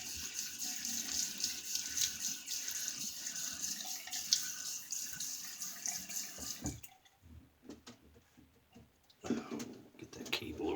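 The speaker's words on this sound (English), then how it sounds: "Let's get my face wet and we'll start lathering." A bathroom tap runs steadily into a sink as the face is wetted before a wet shave, a continuous close hiss of water that stops briefly and then resumes near the end.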